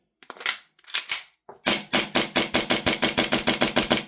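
RWA Nighthawk Custom Sandhawk gas blowback airsoft pistol firing: a few spaced sharp shots, then a rapid even string of about a dozen snappy cracks with slide clacks, close and loud.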